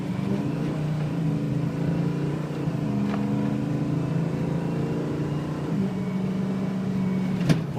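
A 2006 Ford F350 dually 4x4 with the 6.0 diesel idles steadily and fairly quietly nearby, a low even engine drone holding across the whole stretch with a small click near the end.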